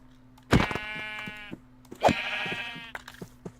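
Sheep bleat in the Minecraft video game, two clear, close wavering calls about a second and a half apart with faint clicks between them and no talk.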